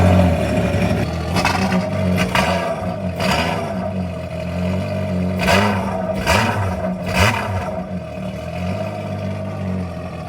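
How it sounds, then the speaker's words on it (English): A water dirtbike with a newly installed Jetworks metal exhaust fires up for the first time, its engine revving in several loud, rising bursts over a steady, throaty running drone, with no talking. "Jetworks exhaust is installed. First startup. Let's hear it."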